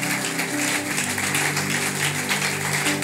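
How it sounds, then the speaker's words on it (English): A church congregation claps for its watchmen prayer team, a dense, steady wash of many hands applauding together throughout, fairly loud and with no talk over it. "can you give a good clap to the people that are our watchmen team?"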